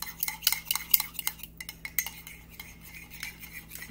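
A mixture being stirred with a utensil in a bowl while preparing pork chops, with quick close clinks and scrapes that slow to softer swishes.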